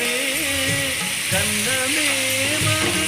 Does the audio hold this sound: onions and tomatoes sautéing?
yes